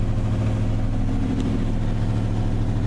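A 1966 Chrysler car engine idles steadily while warming up, a continuous low rumble with an even pulsing throb, close and constant throughout with no talk.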